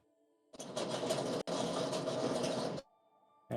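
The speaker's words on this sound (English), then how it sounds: "I still can't hear anything but the sound of a dryer" A clothes dryer runs with a loud, steady rumbling whir that starts abruptly, breaks off for an instant, carries on, then stops, leaving quiet background hum.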